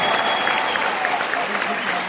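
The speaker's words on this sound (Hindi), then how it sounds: "थोड़ी और ताली तो हो सकती है मेरे ख्याल से।" Audience applause, a dense, loud wash of clapping from a large crowd, continuous and even throughout with a faint murmur of voices underneath.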